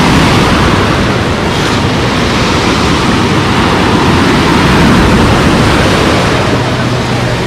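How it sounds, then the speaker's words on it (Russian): Sea waves wash onto a beach at Lazurny beach in Lazarevskoye, heard as a loud, continuous rushing roar of surf with wind buffeting the microphone and no clear pauses. "хорошая, симпатичная волна."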